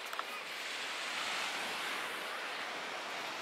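Ocean surf rolls continuously at Panama City Beach, a broad steady wash of waves with some wind buffeting the microphone and no clear talking.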